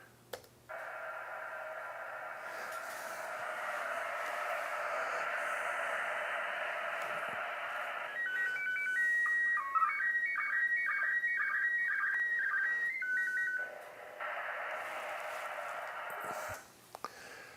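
A slow-scan television image signal from the International Space Station replayed from a recording: a steady, hissy tonal warble for about eight seconds, then a rapidly stepping, chirping sequence of pitched beeps, then the warbling tone again, loud and continuous.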